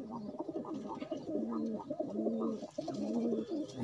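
Banded pigeons kept in pairs coo in a loft, overlapping deep throaty rolling calls repeating steadily and close by with no talking.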